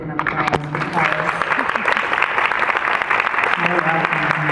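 An audience at a Mother's Day panel with an actress and her daughter claps steadily and loudly for several seconds, with light crowd murmur and a voice briefly audible underneath.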